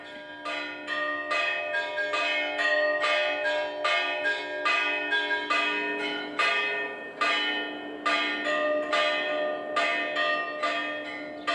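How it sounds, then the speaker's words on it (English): Church bells ring out in a steady, overlapping peal, with repeated bright strikes and long ringing tones layered over one another, loud and continuous with no voices. "how the bells of Astrakhan used to sound"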